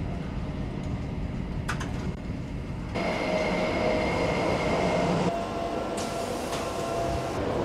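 A metro train ride heading back toward Teesside, with a continuous loud rumble of wheels and carriage noise. The sound grows louder about a third of the way in, with faint squeals and clatter over it and no talking.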